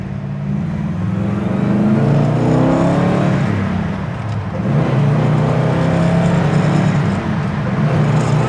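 A 1960 Ford Starliner's engine drones steadily from inside the cabin while cruising at 70 mph and 2,600 RPM, a loud continuous low hum with slight swells.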